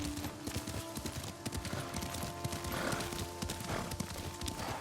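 Rhythmic hoofbeats of a horse being ridden in Ghost of Tsushima, a steady galloping clip-clop with occasional snorts over an ambient game backdrop, no speech heard.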